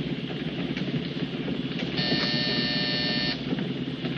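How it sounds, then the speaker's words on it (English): A door buzzer in a 1952 film noir scene sounds as one steady electric drone lasting over a second. Its tone is bright and carries harmonics above a constant background hum. "Hit that buzzer."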